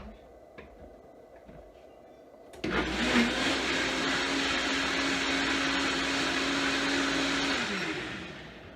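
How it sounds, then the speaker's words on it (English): An electric mixer switches on abruptly partway through and runs with a loud steady whir for about five seconds, blending part of a lemon lentil soup, then winds down; quiet kitchen noise comes before it starts. "So I'll put some of it in a mixer and give that a quick spin around."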